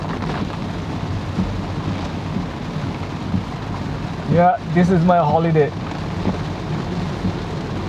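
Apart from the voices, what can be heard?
heavy rain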